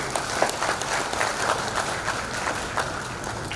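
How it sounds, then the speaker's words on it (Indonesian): Audience applause at a Christmas (Natal) celebration of a youth group, steady clapping from a crowd across the whole stretch, moderately near with a few louder claps standing out. "Tepuk tangan dulu."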